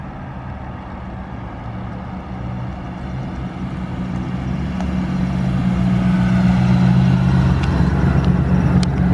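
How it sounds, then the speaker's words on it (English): A loud manual car's engine rumbles steadily and grows stronger as it approaches and passes, a low, droning growl that rises in level over the clip with no talking. "the car's hella loud"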